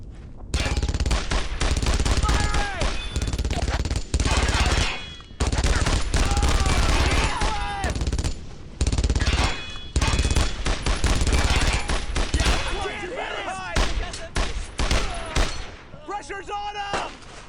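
Sustained bursts of gunfire from German anti-air gunners in the WWII shooter Brothers In Arms: Road to Hill 30, loud and near, rattling almost without pause, with soldiers shouting over the battle.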